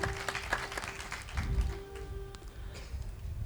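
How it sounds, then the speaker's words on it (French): An audience at a televised Christian singing show claps, an uneven burst of hand claps with a louder swell midway, fairly close and mixed with a few taps. "Une fois encore, applaudissez pour Jésus-Christ de Nazareth."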